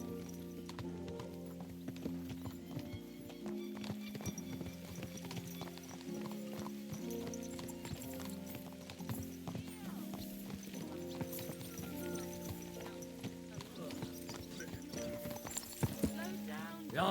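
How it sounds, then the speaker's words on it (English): Horses on a ride in Kingdom Come: Deliverance II, hooves clip-clopping in a steady rhythm throughout, mixed under a continuous musical score with an occasional whinny and background voices. "So mount up and we'll ride out."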